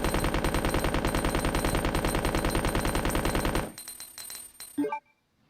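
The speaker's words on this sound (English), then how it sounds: "Let's light him up with that submachine gun, guys." Submachine gun in Resident Evil 2 (1998, Dreamcast, Leon B scenario) fires a long, rapid, steady burst of evenly spaced shots, loud and close, then cuts off and leaves a few scattered clinks and one last thud.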